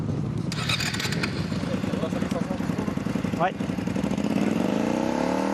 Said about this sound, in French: les motos qui sont bricolées ou qui n'ont pas les pots homologués, donc forcément ça fait du bruit